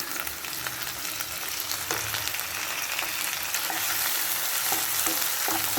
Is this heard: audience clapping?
no